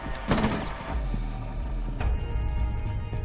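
Pistol gunshots in a first-person shooter: a sharp, loud shot near the start and another about two seconds later, with mechanical clatter and a low background hum in between.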